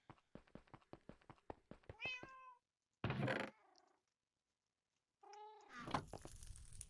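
Cat meowing, a quick run of clicks or taps followed by several loud, close meows separated by short silences, with no talk over it.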